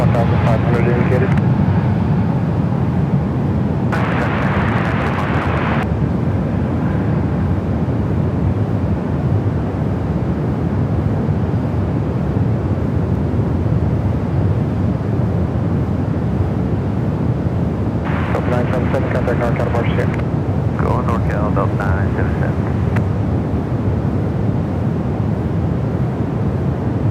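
An Air Premia Boeing 787-9 Dreamliner at San Francisco airport, heading back to Seoul, gives a steady broadband jet roar that holds loud throughout, with brief radio-like voice bursts over it.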